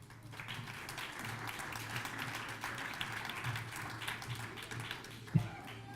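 Audience applause fills a hall at a Molly Day 2017 celebration honouring the Voinovich family, a steady dense patter of many hands clapping throughout, with one sharp louder knock near the end.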